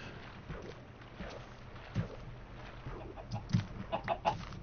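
Chickens on a chicken farm in the video game Minecraft give soft, scattered clucks, growing more frequent and slightly louder toward the end, over a quiet background.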